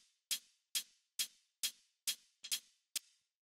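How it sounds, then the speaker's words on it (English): Two hi-hats layered into one hit, a synthy tone blended with a sampled one, for future garage drums. Seven crisp, bright ticks fall at a steady, even pace, each with a short airy decay, with no other sound around them. "Next thing I have here are these hi-hats,"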